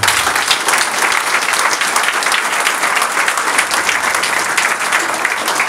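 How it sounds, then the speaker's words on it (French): Loud, dense applause from a large audience at a mayor's New Year address in Fontoy, France, sustained and even for several seconds with no voices on top. "je souhaiterais qu'on les applaudisse également à leur tour"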